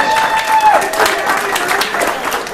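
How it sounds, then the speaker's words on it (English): A crowd at a holiday networking event gives Anthony a big round of applause, loud dense clapping with cheers and voices over it. "Give Anthony a big round of applause."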